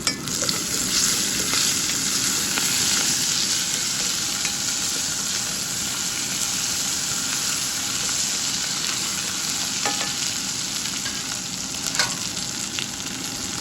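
Turmeric and ginger garlic paste sizzle in hot oil in a pan while cooking a cucumber tomato curry, a continuous bright frying hiss with a few faint clicks and no talking.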